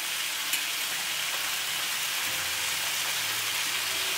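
Spices sizzle and fry in a pan for coriander chicken, a steady, close hiss and crackle with faint stirring, no voices.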